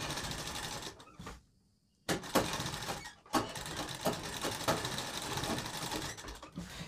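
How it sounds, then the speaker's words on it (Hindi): Sewing machine running in steady bursts as it stitches the curved, folded hem of a kurti, the motor whirring continuously with a brief pause partway through. "इसको कपड़े को यहाँ पर ऐसे फोल्ड करना है और फिर इसको ऐसे पकड़ के इसमें सिलाई लगानी है"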